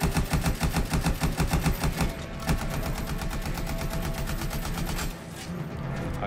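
A weapon fires in rapid, evenly spaced bursts in the video game Anthem, loud and close, for about two seconds, then gives way to a dense, steady mechanical roar.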